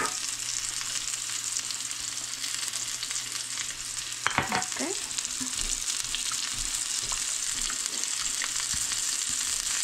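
Garlic powder, onion powder, parsley, salt and pepper melt and sizzle in a pan as meat cooks, a steady close frying hiss with a few brief clinks and stirring sounds.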